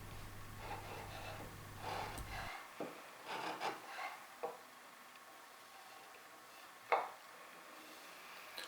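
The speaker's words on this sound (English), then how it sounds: "it's just a case of using the marking gauge to define the shape of the mortise" A marking gauge scribes the outline of a mortise into an oak table rail. Quiet, close scratching and light wooden scraping, broken by a few soft taps and one sharper knock near the end. No talk.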